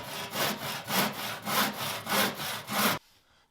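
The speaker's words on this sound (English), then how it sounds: "So we'll go ahead and we'll cut our first piece." Hand saw cutting a 3/4-inch pine board, steady back-and-forth strokes, about six or seven rhythmic rasping passes up close, ending abruptly in near silence.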